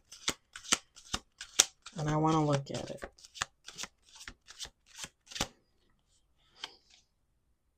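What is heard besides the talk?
shuffling a deck of cards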